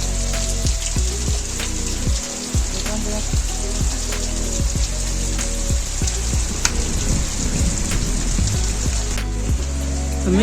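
Heavy monsoon rain pours steadily during a storm in Banaskantha, Gujarat, a dense continuous hiss with low rumbling thunder rolling underneath throughout, loud and close.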